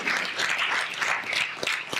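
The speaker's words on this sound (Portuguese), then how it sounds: "Você pode aplaudir o Senhor Jesus." A church congregation gives a dense burst of applause, steady and fairly close, with a few sharper individual claps standing out near the end.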